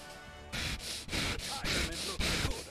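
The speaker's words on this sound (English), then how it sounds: "That's me breathing!" Heavy, rhythmic breathing from a gamer during a match, a series of close, airy huffs and gasps repeating roughly every half second after a short quiet start.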